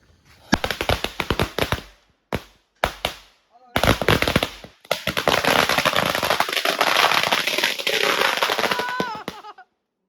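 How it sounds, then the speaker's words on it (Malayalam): A string of maalappadakkam firecrackers bursts in rapid crackling volleys, first in short separated bursts, then a long continuous loud rattle lasting several seconds before stopping abruptly. "നമ്മൾ ഇനി മാലപ്പടക്കം പൊട്ടിക്കാൻ വേണ്ടി പോവാണ്"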